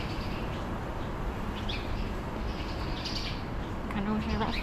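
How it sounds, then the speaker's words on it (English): Birds chirp faintly over a steady low rumble of traffic and city air on Market Street in the early morning, a few brief high tweets scattered across the background. "Hear the birds chirping."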